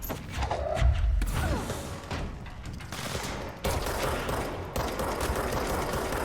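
Gunfire in the video game Control: a burst of several sharp shots and thuds early on, then further cracks and impacts at irregular intervals over a rumbling background, with no voices.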